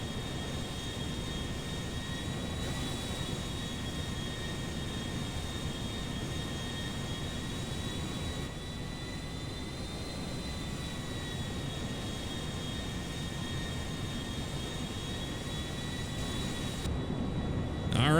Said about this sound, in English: we're just going to keep it at full speed here so we can kind of mimic the speed the Concorde has